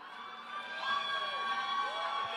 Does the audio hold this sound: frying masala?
no